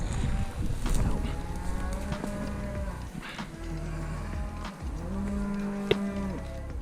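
Several cattle moo repeatedly in an open New Zealand farm field, long low calls overlapping from near and farther away, with wind noise and a low rumble running underneath.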